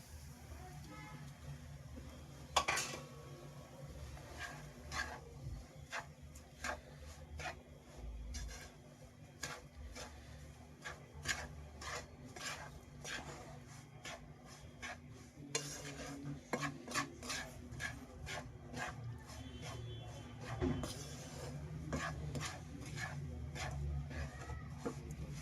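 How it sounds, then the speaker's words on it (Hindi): A spoon stirs semolina (suji, rava) roasting in a pan for upma, giving repeated light scraping and clinking strokes against the metal over a faint sizzle, with occasional louder knocks. "अब हम इसमें ऐड करेंगे सूजी और रवा भी कहते हैं बहुत से लोग इसे। और अब हम इसे भी हल्का सा भून लेंगे इसमें।"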